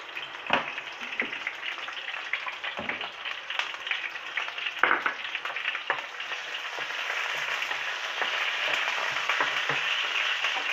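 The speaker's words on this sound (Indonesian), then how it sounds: "Tumis-tumis sampai harum." Garlic sizzles steadily in a little hot oil while being sautéed for a pumpkin stir-fry, a close continuous frying hiss broken by occasional scraping stirs.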